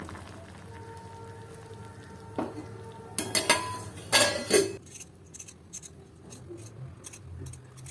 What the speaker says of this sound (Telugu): స్టవ్ కట్టేసి మూత పెట్టి అలా వదిలేయండి.